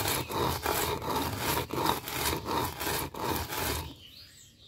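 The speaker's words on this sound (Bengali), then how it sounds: "এখন আমি এটাকে পাটায় বাটবো।" Fried rice is ground on a flat pata grinding stone with a rhythmic back-and-forth scraping rub, about a dozen strokes close up, ending in quiet.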